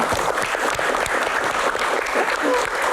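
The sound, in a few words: audience applause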